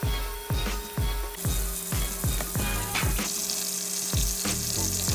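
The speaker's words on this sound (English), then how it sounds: "We're gonna fry that chicken, and I'm gonna let you enjoy the pleasing noises that frying chicken" Chicken frying in hot red palm oil, a steady close sizzle broken by repeated sharp clanks and scrapes of a utensil against the pot, with no talking.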